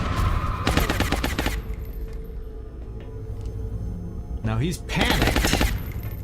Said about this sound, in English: let's have the sniper shoot against whoever he can shoot against